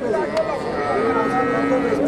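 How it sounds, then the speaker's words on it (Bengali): A local dairy cow lows at a busy cattle market, its drawn-out moo heard up close over constant crowd chatter and background noise. "দেশি গাভী"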